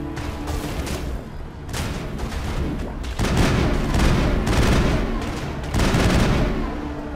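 Gunfire in the Mass Effect video game, dense bursts of shots and booms running continuously and loudly through the whole stretch, with no talk over it.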